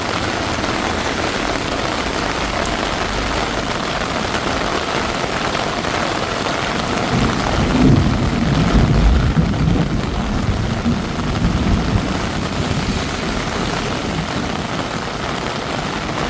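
Heavy monsoon rain in Bangkok, Thailand, pours steadily in a dense, unbroken roar, with a faint low rumble partway through.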